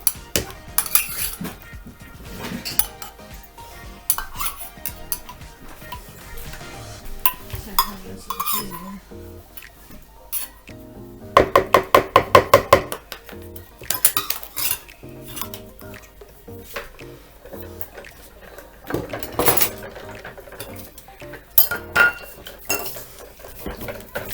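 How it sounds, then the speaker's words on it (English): A whisk clinks and scrapes against a bowl while stirring apple cake batter, with a rapid burst of metallic taps partway through and irregular scraping throughout, close and moderately loud. "stir it up with your whisk"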